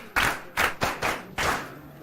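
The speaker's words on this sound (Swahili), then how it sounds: "bila shaka tupige makofi jaji wetu." A school audience at a Swahili arts event claps for the judge in a few loud, separate bursts, close and uneven, each cluster of hand claps dying away before the next.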